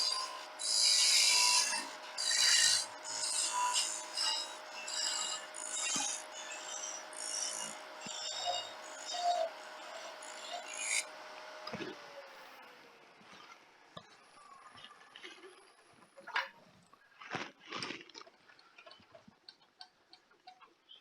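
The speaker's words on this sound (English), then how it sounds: "To do that, I use the Outback parting tool. And I turn this down at the bottom of the tenon." An Outback parting tool turning down a wooden tenon on a lathe, heard as a rasping, scraping cut in rhythmic bursts, then a thinner tail of intermittent clicks and scrapes as the cutting eases off.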